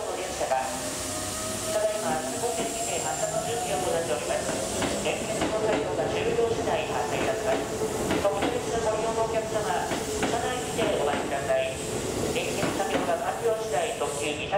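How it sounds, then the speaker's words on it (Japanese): A Keikyu New 1000 series 12-car train running, with a steady rumble and hiss of wheels and motors throughout, a faint rising motor whine, and talk over the top. "12両編成で京急川崎まで運転です。"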